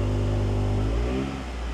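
A 2005 Honda Accord with an Apex-i WS2 exhaust idles with a low, steady drone, then the engine note shifts partway through in a brief rev. The sound is close and moderately quiet, and no one talks over it.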